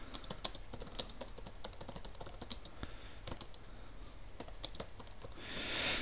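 Quick, uneven bursts of typing on a computer keyboard while a note is entered in PowerPoint, close and fairly crisp, with a short rushing swell of noise at the end.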